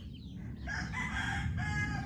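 Chickens cluck and squawk nearby over a steady low rumble of background noise, with a short call rising near the start.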